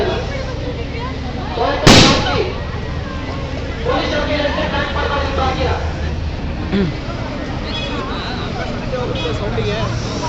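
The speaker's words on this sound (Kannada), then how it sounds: "ಆಂಟಿ ಇವಾಗ ಒಂದು ಶೂಟ್ ಮಾಡ್ತಾರೆ" A single sharp gunshot-like bang, fired to scare off monkeys, cracks out near the start, loud and sudden, followed by outdoor ambience at a farm fair with people chattering in the background.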